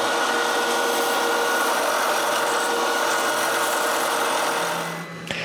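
A wooden padlock being sanded smooth with a power sander, a loud continuous buzzing whir that holds steady for about five seconds before winding down at the end, close up with no talk.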